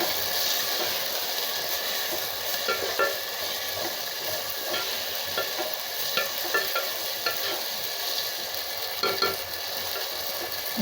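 Mint and coriander leaves sauté in a pan for a biryani, a constant loud hiss of frying with intermittent stirring scrapes, close up and with no voices.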